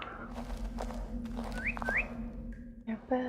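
Short, bright chirps sweep upward twice, followed by a few thin whistled tones over a steady low electronic hum, synthetic birdsong in the video game Virginia.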